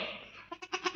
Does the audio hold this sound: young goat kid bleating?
yes